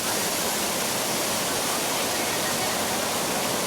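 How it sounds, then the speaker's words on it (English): Water pours through the opened sluice gates of the Parakrama Samudra reservoir, a dense, unbroken rushing roar at steady volume. "10 sluice gates of the Parakrama Samudra have been opened, with the water being released into the Ambanganga"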